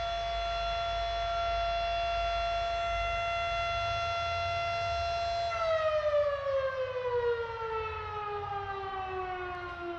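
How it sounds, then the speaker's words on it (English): A tornado siren in Trinity, Texas wails steadily at a high pitch, then its tone begins to wind down and slide lower, loud and alone. "That's a tornado siren, by the way."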